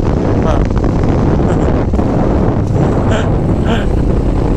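Strong wind buffets the microphone over rough, choppy sea aboard a boat traveling in low-pressure weather, a loud continuous roar of wind and water throughout, with brief voices partly lost beneath it.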